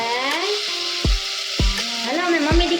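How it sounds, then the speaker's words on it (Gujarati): Potatoes hit hot oil in a home kitchen as they are tempered, giving a steady, close sizzle throughout with a few sharp low thumps from a pan or spoon. "અમે મમ્મી દીકરી વઘારી નાખીએ બટેકા"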